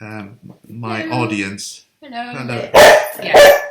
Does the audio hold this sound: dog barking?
yes